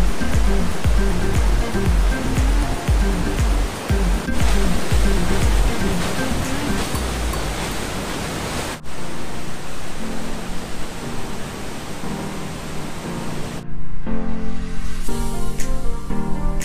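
A waterfall roars as a loud, constant rush of falling water, close and dominant throughout, with a steady broadband hiss that shifts slightly in texture and turns briefly thinner near the end.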